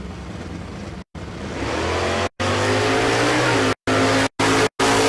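A 6th gen Camaro race car at a drag strip in Ennis, Texas builds a loud, rising engine roar with tire noise, the sound cut by several abrupt gaps of silence.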